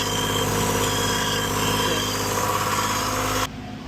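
Sailboat engine with a loose gear shifter revving steadily, a loud continuous droning hum with throbbing vibration, close by, dropping abruptly near the end.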